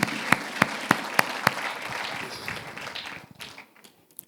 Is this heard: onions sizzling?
no